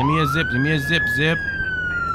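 A police siren in the video game Roblox ERLC rises and holds steady under a man's repeated short spoken words, then continues alone, slowly falling in pitch.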